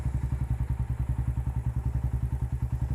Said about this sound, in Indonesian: Idlingnya seperti ini